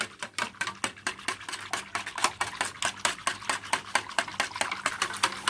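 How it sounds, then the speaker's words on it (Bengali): A spoon beats a sweet yoghurt mixture for mishti doi in a bowl in quick, regular clinking strokes, about three per second, close and steady with no speech. "ভালো করে নেড়ে নিতে হবে, এইভাবে ফেনা উঠে আসবে"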